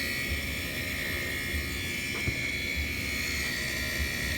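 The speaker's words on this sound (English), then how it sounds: "motor runs" Small electric motor of a 16-inch R-C Craft Chris Craft Deluxe toy speedboat running in the open air, a steady high whine with a thin buzz, fairly quiet and unbroken.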